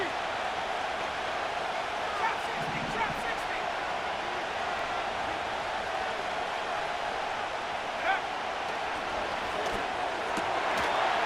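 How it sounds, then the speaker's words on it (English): A steady, loud roar of a big stadium crowd in the video game Madden NFL 25 fills the space, with a few brief swells but no clear pauses. "The noise very loud from the crowd"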